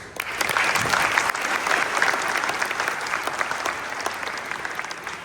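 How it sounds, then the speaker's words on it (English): A graduation audience breaks into loud, dense applause for the parents, a continuous wash of many hands clapping that holds steady and then eases slightly, with faint voices mixed in. "But don't clap too long"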